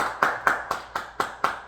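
Seven sharp claps land at an even, steady pace, each one crisp and close, with no voices.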